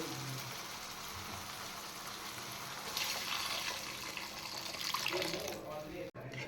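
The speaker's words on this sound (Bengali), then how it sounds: "এদিকে শাক ফ্রাই হয়ে গেছে এবার আমি দিয়ে দেব জল" Water poured into a pan of fried greens while making a fish curry, a continuous rushing, splashing pour that swells in the middle and cuts off sharply near the end, close by with no talking.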